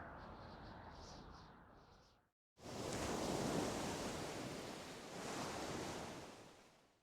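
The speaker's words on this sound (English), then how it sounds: "I hear waves." Broad, steady ocean surf from the Dragon Quest II HD-2D Remake game, a continuous wash of breaking waves swelling and easing, with a brief drop to silence before the roar returns loud and full.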